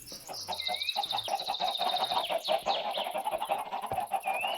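Chickens in the Minecraft video game cluck in rapid, overlapping bursts, several birds close by with short repeated calls and occasional higher squawks, continuous throughout over a steady hum.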